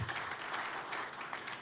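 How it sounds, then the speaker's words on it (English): Brief, soft audience applause greets a speaker introduced at a panel discussion, a diffuse wash of clapping heard at moderate distance. "So give him a giant round of applause."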